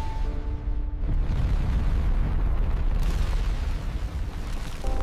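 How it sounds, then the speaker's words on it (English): A deep, rumbling explosion effect for a six-mile-wide asteroid striking Earth, with a low roar that holds and swells loudly throughout. "An asteroid 6 miles wide struck the planet with unimaginable force"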